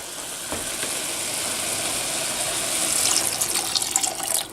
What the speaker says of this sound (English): I like to add the vinegar first and let it cook for a little bit